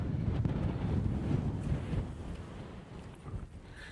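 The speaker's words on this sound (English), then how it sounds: "The wind is just getting stronger as I go up here." Strong gusting wind on an exposed hilltop at the Roaches buffets the microphone in a dense, roaring rush that eases slightly toward the end.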